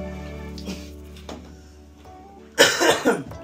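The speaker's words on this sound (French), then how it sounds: "Je tousse." A person coughs a couple of times near the end, sharp and close, after a quiet stretch with faint background sounds.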